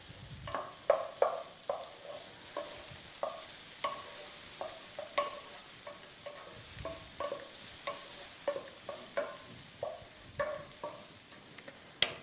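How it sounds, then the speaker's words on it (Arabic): Onion frying in a pan with a soft steady sizzle, broken by a string of light scrapes and clinks as it is stirred at an irregular pace, fairly quiet and with no talking. "نقلي البصل."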